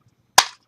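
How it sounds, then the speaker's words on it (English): A single sharp metallic click is heard as the safety lever on a WASR-10 AKM rifle is snapped off safe. It is close and loud and rings out alone. "take the weapon off safe"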